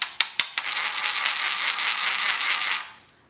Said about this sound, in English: they like to take 2 jars, which you can see have ridges on the bottom, and they like to rub them together, like this, to loosen the spices